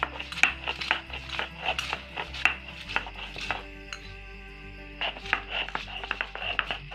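Peeled, chopped ginger ground into paste with a little water, uneven scraping and knocking strokes of a grinding stone in bursts, close and fairly loud.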